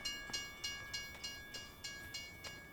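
A train rolls past in Farming Simulator 25 on the Cruger Mississippi map, its wheels clacking in a steady, evenly spaced rhythm over a constant hum, with no talking.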